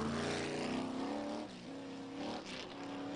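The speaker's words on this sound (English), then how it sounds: "Project Crew Chief Brian Coates warms up the truck and gets it ready for the start" A super stock class race truck's engine warms up at Pikes Peak, a loud, rough revving drone that rises and dips as the throttle is blipped, heard close and alone.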